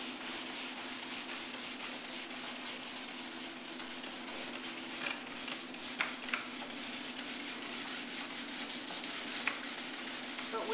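A nylon brush polishes a ski base, making a steady, continuous rubbing and sanding hiss with an even rhythm of strokes, close and fairly loud throughout, with no talking.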